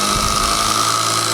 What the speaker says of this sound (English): Let's try a 4-inch screw with this thing.